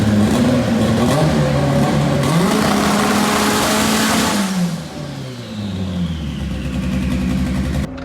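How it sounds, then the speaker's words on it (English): All-wheel-drive A-Series race car built from a 1998 car, running on a dyno: a loud, close engine holds high revs with rising and falling pitch, then dips briefly and climbs again. "It's a all-wheel drive A-Series, currently second fastest in Canada."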